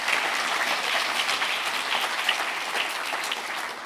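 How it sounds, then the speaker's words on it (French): A crowd claps steadily for the award candidates at a pedestrian and cycling awards ceremony, a brief, even wash of applause from a room full of people. "Je vous propose déjà qu'on les applaudisse tous"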